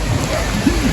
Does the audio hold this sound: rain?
yes